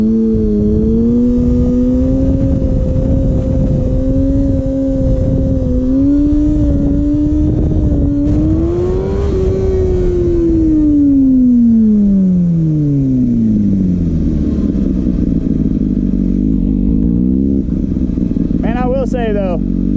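A Kawasaki ZX6R sport bike's engine drones loudly during practice riding, its pitch holding steady, then rising and falling sharply as the rider revs and eases off, with rushing wind noise throughout.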